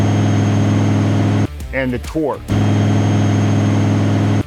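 A car engine runs steadily on a dynamometer, a loud constant drone with a strong low hum, briefly interrupted as someone speaks over it before the steady engine sound resumes.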